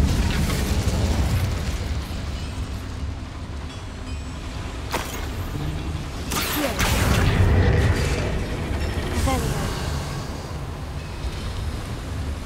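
Incendio fire spell cast in Hogwarts Legacy inside a mine with boilers, a loud whooshing roar with sharp bursts near the five- and seven-second marks over a constant heavy rumble.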